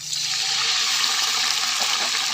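A steady, continuous rush of water poured into a pot of browned onions, close and fairly loud, with no pauses throughout.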